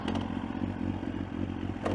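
A Kawasaki ZX9 with a titanium exhaust rumbles close by as it sets off, a steady throbbing engine note with light mechanical clatter and a brief rise in revs at the end.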